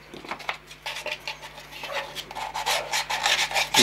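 Hand sanding rounds the corners of a small model water tank. It makes short, uneven rasping strokes in quick bursts, fairly close and quiet, with no talk.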